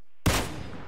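Video game gunfire from a competitive esports grand final: one sharp, loud burst hits after a moment of silence, then trails into a rough, crackling decay.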